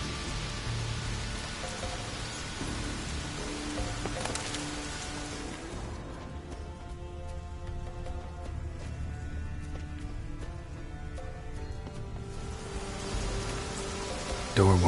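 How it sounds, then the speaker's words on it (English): Steady rain falls in The Witcher 3 game world, a broad even hiss that runs throughout, thinning in the middle stretch, with faint scattered game sounds over it. "Looks like rain."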